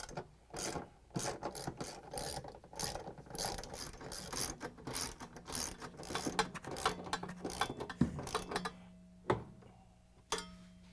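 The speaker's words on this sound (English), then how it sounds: "we can grab the ratchet, a couple of extensions, and the 10mm socket and put in the bolts" A ratchet with extensions and a 10mm socket drives bolts into the clutch bracket of a Samsung washer, rapid ratcheting clicks in repeated bursts with short pauses and a couple of sharp knocks near the end.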